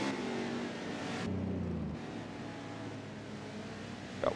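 Race cars roll through a pace lap at Daytona during an XRA event, a steady blend of engine drone with a rise in revving early on, then a lower continuous rumble at moderate distance.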